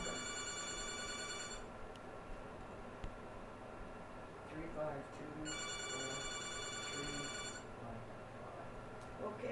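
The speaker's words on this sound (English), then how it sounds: "Just keep letting the phone ring." A telephone rings in repeated bursts with pauses between them, a steady electronic ring over faint background noise and distant talk.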